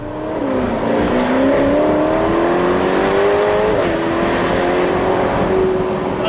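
A Ferrari 812 Superfast V12 accelerates hard through gear changes while chasing an Aston Martin DB11, its loud engine note rising in pitch with a quick shift and then climbing again, heard from inside the car.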